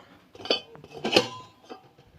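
A metal pot, just taken off the stove, is covered with its lid, giving a few close clinks and scrapes of metal against metal that come in two short clusters.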